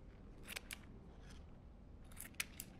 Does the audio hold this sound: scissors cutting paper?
yes